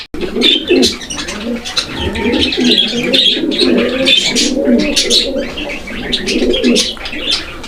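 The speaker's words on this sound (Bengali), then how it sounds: "এটা তো একদম ভরপুর ডাকের কবুতর" Several pigeons at a bird market coo repeatedly and close by, their soft throaty calls overlapping in a rolling rhythm with occasional chirps mixed in.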